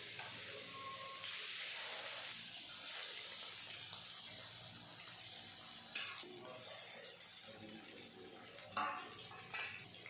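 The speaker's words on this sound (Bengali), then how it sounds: "তেল ভালো মতন গরম হয়ে গেল, তারপরে দিয়ে দিলাম মেখে রাখা মাছগুলো" Marinated katla fish pieces fry in hot mustard oil in a wok, giving a steady close sizzling hiss with occasional spits and clatters.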